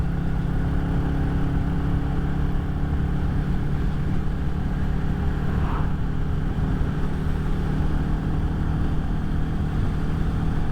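A Royal Enfield Classic 350 motorcycle drones steadily while riding, with constant engine and road noise filling the whole stretch and no clear break for the gear change.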